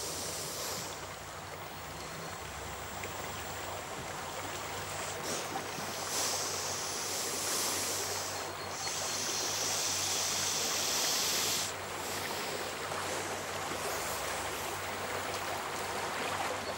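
A strong river current rushes in a wild setting, a dense continuous roar of churning water with a low rumble, steady and close throughout and free of voices.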